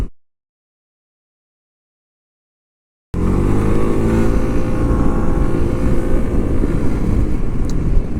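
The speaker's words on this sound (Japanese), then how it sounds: "今高速道路料金所からの加速でした" A Suzuki Burgman 200 scooter pulls away hard from a highway toll booth, its engine and road roar loud and steady after several seconds of silence, sustained with no voices.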